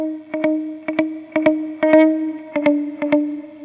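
Guitar through an Empty Head Effects modulation pedal set to a short delay, each plucked note doubled by a close echo; a steady sustained chord with about eight pairs of attacks, loud and alone.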